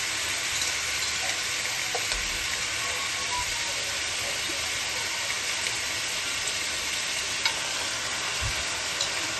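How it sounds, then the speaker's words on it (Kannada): Country chicken pieces are added to a pressure cooker for sambar and fried, giving a dense, loud, steady sizzle nearby with a few soft thuds and scrapes. "ಈ ರೀತಿ ರೆಡಿ ಮಾಡಿ ಇಟ್ಕೊಂಡಿರೋ ಚಿಕನ್ನೆಲ್ಲ ಈ ಥರ ಕುಕ್ಕರ್ನಲ್ಲಿ ಹಾಕ್ತಾಯಿದ್ದೀವಿ"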